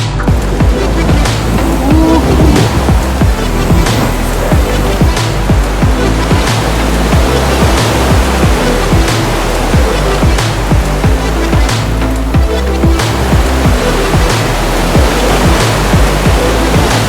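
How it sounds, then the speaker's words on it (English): Ocean waves from northwest swells on Kauai, a loud continuous roar of surf with crashing breakers and rushing water filling the whole stretch, no talking. "they've continued to have northwest swells hitting"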